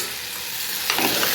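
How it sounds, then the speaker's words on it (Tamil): Onion, tomato and garlic sizzle and fry in hot oil in a pan for a spicy turkey berry curry, a steady close crackling hiss with a brief louder burst of stirring near the end. "இந்த வெங்காயம், தக்காளி, பூண்டோட மிக்ஸ் ஆகி எண்ணெயோடு நல்லா சுருளை வதக்கி எடுத்துக்கணும்"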